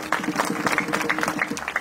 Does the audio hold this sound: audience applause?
yes